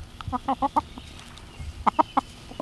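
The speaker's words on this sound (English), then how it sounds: "We have 8 laying hens, and we have 5 babies in the coop." Chickens in a backyard coop holding eight laying hens and chicks give a quick run of four clucks, then after a pause three more, close and clear over a quiet background.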